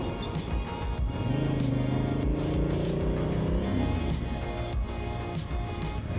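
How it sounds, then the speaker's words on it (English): A truck passes close by on a snowy high mountain road in Tibet, its engine rumble rising and falling over the steady hum of a moving vehicle. "That truck was actually pretty close."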